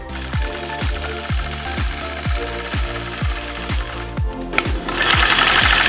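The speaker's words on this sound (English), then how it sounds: "I'll stitch just a straight diagonal line through each of these blocks" A sewing machine stitches a straight diagonal quilting line through quilt blocks, its needle thumping in a steady rapid rhythm of about two strokes per second, loud and close, ending in a brief hiss of motor noise.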